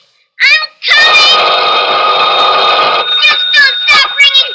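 A telephone rings in a vintage radio mystery drama, a long sustained ring burst followed by shorter trilling rings, loud and close, with a frantic voice pleading intermittently.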